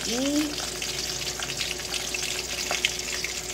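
Tulingan fish frying in oil in a pan, a steady close sizzle with a brief high tonal squeak near the start, continuing evenly with no voices.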